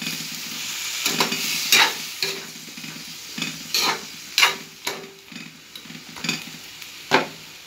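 Chicken curry with potatoes cooking in a pan, a steady sizzle broken by repeated stirring scrapes and clinks at an irregular rhythm, close and moderately loud with no talking.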